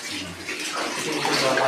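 Water runs steadily during work on a clogged toilet, a continuous splashing rush like a filling tub, with faint voices talking in the background.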